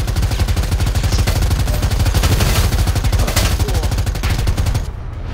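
Rapid automatic gunfire from Predator: Hunting Grounds, a dense, continuous burst of loud shots lasting several seconds before cutting off, with a faint voice underneath.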